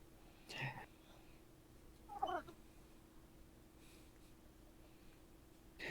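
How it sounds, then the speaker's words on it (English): A house cat lets out a few short meows spaced a second or so apart, faint and slightly distant over a low steady room hum, with a soft whispery voice nearby. "my cat is meowing, sorry."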